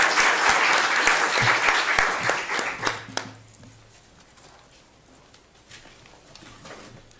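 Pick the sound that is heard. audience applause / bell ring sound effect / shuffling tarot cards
audience applause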